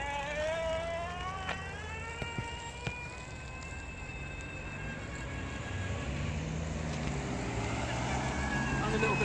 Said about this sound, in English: now a little bit of electric throttle